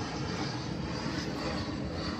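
An airplane passes overhead near Woodmere Dock, its steady broadband engine roar holding loud and constant through the whole short stretch, with no talking.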